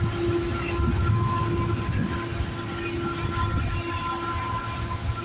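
A CN or CP freight train carrying intermodal containers rolls past in Milton, Ontario, a steady, loud rumble of wheels and cars with a sustained tonal hum, continuous for the whole stretch.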